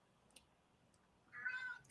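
A pet cat gives a single soft, drawn-out meow near the end, fairly close but quiet, in an otherwise hushed room with a faint tick or two before it.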